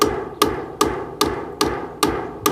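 A hammer pounds steadily during demolition of a house, seven sharp, evenly spaced blows close by with no voices.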